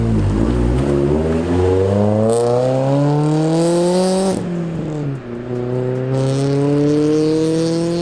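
Renault Clio RS 197 engine pulling hard while driving, heard loud from inside as revs climb steadily, dip briefly at a gear change, then rise again in a strong rising drone.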